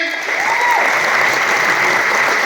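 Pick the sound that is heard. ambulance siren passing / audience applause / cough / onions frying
audience applause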